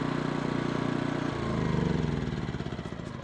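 A small iPower inverter generator's engine runs steadily and close by, a continuous mid-pitched hum that shifts to a slightly different, busier pitch partway through as the load or speed changes, with no talking.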